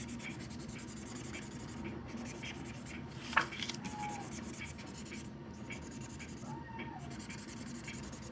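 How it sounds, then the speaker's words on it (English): A coloured pen scribbled across scrap paper during card making, producing soft, steady scratchy scribbling strokes with a few brief louder scrapes, faint and close with no talk. "clean my pen off so all the color comes out"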